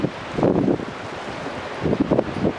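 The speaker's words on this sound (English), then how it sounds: "It's a bit of a blustery day." Gusts of strong wind buffet the microphone on a blustery snowstorm day at Holland Cove, coming in two rough surges with a steady rush between them.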